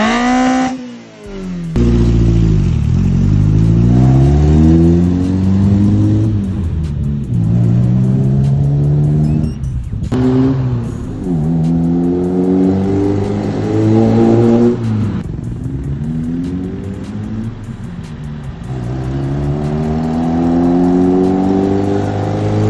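A car engine revs hard through a loud drag pipe muffler, with repeated rising and falling revs over about twenty seconds, close and loud with no talking.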